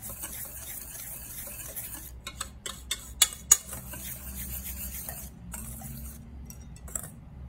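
Sugar and salt being stirred into a coconut chiffon cake mixture, a run of light clinking scrapes and taps from a utensil against the bowl, close and moderately loud over a low steady background, with no one talking.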